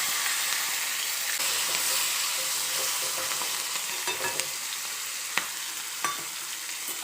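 Washed, cut green chilies hit hot oil with asafoetida, giving a steady loud sizzle and hiss throughout, with a few sharper pops and crackles near the end, no voices.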